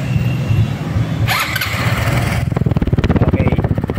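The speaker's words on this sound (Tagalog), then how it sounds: "Tignan natin kung matumba o brusko ang kanyang muffler." A Motorstar ADV 175 fuel-injected scooter, 2024 model, starts up and settles into a steady, fairly quiet idle through its muffler, close by, with a brief whine at the start and a voice underneath early on.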